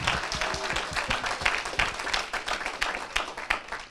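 A church congregation claps during worship, a fast, dense patter of many hands keeping a loose rhythm, fairly loud and continuous with faint sounds of other activity underneath.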